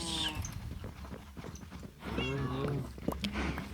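Minecraft cows on a hardcore-mode farm let out a few low moos, fairly faint and mixed with soft hoof steps and other farm animal sounds.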